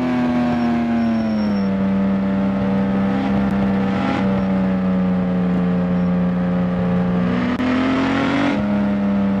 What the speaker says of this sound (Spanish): pasémonosla muy bien conduciendo este auto Mini Cooper acá en los recorridos en la ciudad